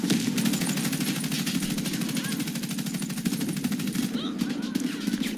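Sustained rapid automatic gunfire in the video game Warface, loud and rhythmic, with a speaking voice faintly under the shots.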